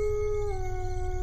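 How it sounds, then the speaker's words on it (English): A sustained wolf howl sound effect, a single long tonal note that steps slightly in pitch, heard clearly over low rumble. "So both of you hear the sounds of wolves howling."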